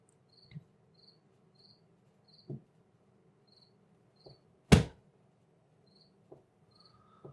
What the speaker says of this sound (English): this cricket is incredibly distracting